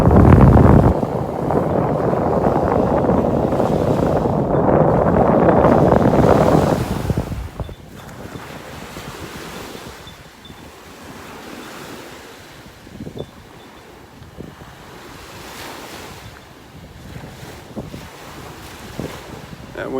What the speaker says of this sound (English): That wind's blowing right in my face now. This is from Hurricane Dorian, this wind,